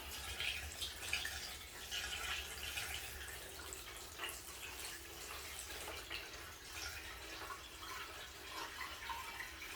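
Rust remover splashing and trickling into a Honda 300 Fourtrax steel gas tank, a steady close liquid wash with small drips and gurgles, no voices.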